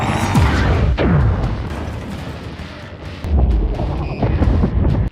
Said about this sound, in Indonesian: semua benda termasuk Prime terhisap ke dalam pusaran ledakan